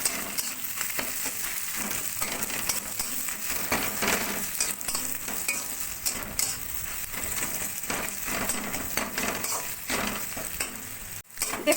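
Fish paste frying in a pan with onions already browned red, a steady dense sizzle with occasional stirring scrapes running continuously and close, with no talking.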